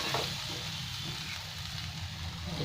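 Sabudana (sago) being stir-fried in a pan with potatoes and chana masala, a steady soft sizzle, faint and continuous throughout.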